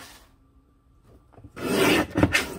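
A paper trimmer slices through dark red paper, a near, rasping cut of about a second following faint handling noise.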